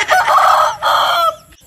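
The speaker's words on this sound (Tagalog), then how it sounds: "Manok nga puting paa ni." A white-legged rooster crowing, one loud close crow in two long sustained phrases, clear and strong with no talk over it.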